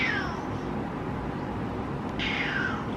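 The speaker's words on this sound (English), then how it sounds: "So my cat's newest thing is literally screaming at me." A pet cat screams loudly, two long drawn-out yowls close by, the first falling away quickly and the second rising again after a short pause over faint room noise.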